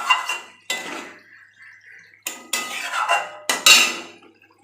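Boiled eggs going into a pan of egg curry, heard as several close, bright clinks and clattering knocks of metal cookware in short bursts, with a brief quiet pause between them.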